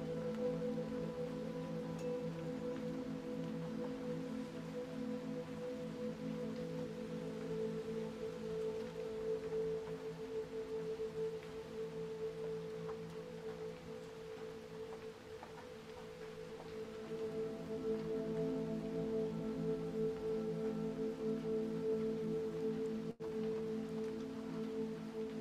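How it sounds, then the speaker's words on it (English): Light rain falls on a tin shed roof, a soft, continuous patter with a steady hum beneath it that stays even and fairly quiet throughout. "A light rain falls on the roof of the shed"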